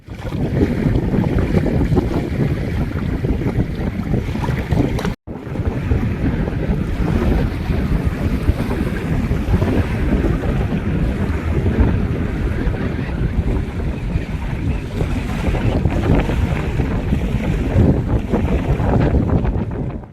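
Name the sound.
water waves and wind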